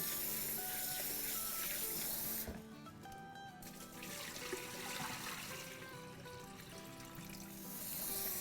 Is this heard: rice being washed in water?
yes